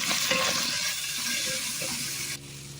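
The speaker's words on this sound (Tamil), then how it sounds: "தக்காளி சேர்த்து நல்லா வதக்கி விட்டுக்கலாம்." Tomatoes and onion sautéing in a pan, a loud, steady, hissing sizzle up close that suddenly drops away near the end, with no talk.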